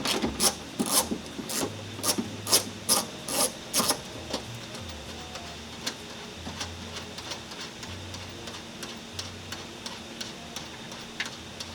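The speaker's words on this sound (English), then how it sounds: "You can use a ratchet to take it off" A ratchet loosens the 10mm bolts holding a Mitsubishi Lancer tail light, with a quick run of sharp rhythmic clicks up close, then sparser ticking and faint handling sounds.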